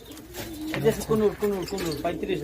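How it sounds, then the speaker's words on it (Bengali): Pigeons coo nearby on a pigeon farm in a series of soft, throaty, rolling calls, repeating every half second or so over a quiet background. "এই যে হচ্ছে কবুতর না, অনেক সুন্দর।"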